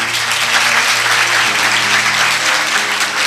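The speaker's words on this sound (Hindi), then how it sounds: "ये दुआ का टाइम है, ताली बजाने का नहीं है।" A congregation claps during a sermon by a bishop, producing loud, sustained applause with a faint low hum underneath and no clear speech.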